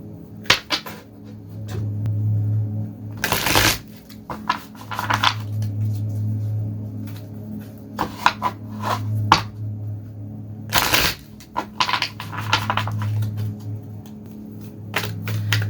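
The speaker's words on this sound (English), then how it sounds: "I already shuffled, like I said. And let me do it one more time." Tarot cards being shuffled by hand, with repeated crisp riffling and fluttering bursts spread across the clip, two especially loud full riffles standing out, over a steady low background hum with no talking.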